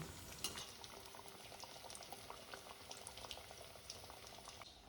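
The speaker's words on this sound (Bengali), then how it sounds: "আমি আবারও পনিরের আর একটা সাইড ভালো করে ভেজে নেব" Paneer cubes fry in hot oil in a pan, giving a steady close bubbling sizzle with crackly spits throughout and occasional faint utensil clinks.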